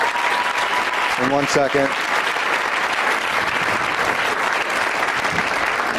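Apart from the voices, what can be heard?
comedy show audience applause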